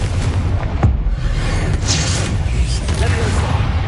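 A Confringo fire-blast spell detonates in Hogwarts Legacy, a single low boom near the start over a dense, steady rumble of game sound and music, with a voice speaking throughout.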